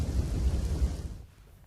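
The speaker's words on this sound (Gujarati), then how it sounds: "યાત્રાધામ દ્વારકામાં વરસાદ છે" Heavy monsoon rain in Dwarka during a red-alert downpour that has flooded the streets, a dense steady roar that fades away near the end.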